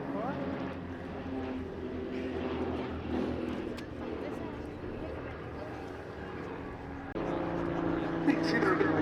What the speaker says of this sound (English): Now here are the aircraft from the main formation once again.